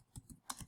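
Short burst of computer keyboard typing while entering a website search: a handful of quick, close key clicks in an uneven rhythm, with no talking.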